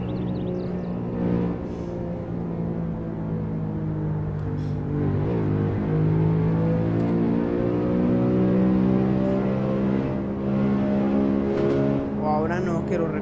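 A Nissan Skyline engine in the Euro Truck Simulator video game, a steady mid-pitched hum that rises and falls as it revs, continuous and fairly loud from start to finish.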